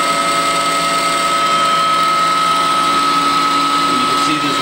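A Citizen A32VII CNC Swiss lathe runs its spindle at 3,500 RPM, making a steady high-pitched mechanical whine with layered tonal hum. The sound is loud and constant throughout.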